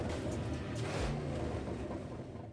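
A bus fitted with a 700 horsepower Raptor engine revs, giving a dense, rumbling roar that holds steady and fairly close throughout, with no voices.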